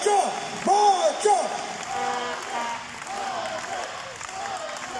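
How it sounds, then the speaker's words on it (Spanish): Crowd at a tribute event for a man called Mocho Cota claps and shouts, with loud whoops and cries rising early, then steady applause continuing at a moderate level. "¡Fuerte el aplauso y el grito!"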